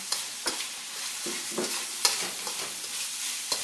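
Scallions sizzle in a hot pan for ma po tofu while a utensil stirs them, with scraping strokes and soft clicks over a continuous close frying hiss.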